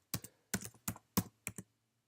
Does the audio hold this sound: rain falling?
no